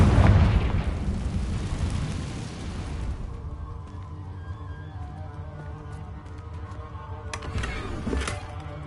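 A Confringo blasting spell explodes in the Hogwarts Legacy video game, opening with a loud, deep boom that rolls off into a lingering rumble and settling debris, followed by a smaller crackling burst near the end.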